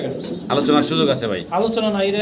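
A Roman pigeon for sale gives a loud, close, throaty cooing in repeated rolling bursts that nearly fill the moment, with a voice mixed in.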